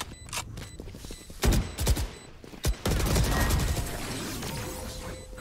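Rapid bursts of gunfire in the Valorant video game, with scattered shots followed by a sustained dense spray of fire that dominates the second half, loud and close with no talk.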